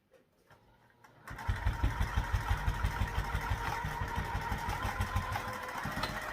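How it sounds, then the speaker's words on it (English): Sewing machine stitching two or three lines back and forth on a strap, starting after a moment of quiet with a rapid, even mechanical chatter that runs steadily and close up. "Okay, so we just sew this 2 or 3 lines of sewing."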